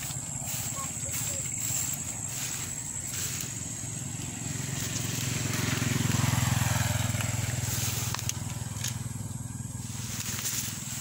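A motorcycle engine drones steadily in a rural field setting, swelling louder as it passes close around the middle and then easing off, under a constant outdoor background.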